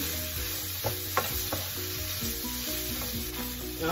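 Shrimp fried rice ingredients sizzle in a pan with a constant close hiss, broken by a few sharp spatula scrapes and taps against the pan, and no one speaks.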